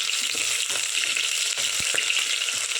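Onion sizzling steadily in hot oil with cinnamon and curry leaves in a pan, a continuous close hiss with occasional soft stirring knocks and crackles.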